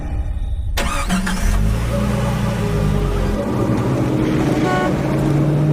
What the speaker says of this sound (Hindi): लक्ष्य अपनी गाड़ी से आनंद के घर पहुंचता है